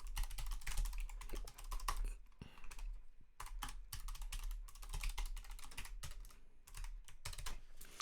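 Someone types on a computer keyboard in a quick, continuous run of close clicking keystrokes with brief pauses.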